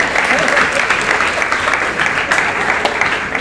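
An audience at a Hare Krishna religious gathering claps, a dense, steady burst of applause filling the hall, loud and continuous without pause.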